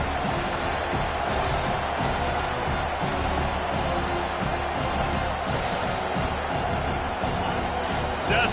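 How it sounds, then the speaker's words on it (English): A stadium crowd roars and cheers during a third-down defensive stand in the College Football 25 video game, a dense continuous wall of noise with swelling surges throughout. "Decibels rising as the crowd gets behind this defense on third down."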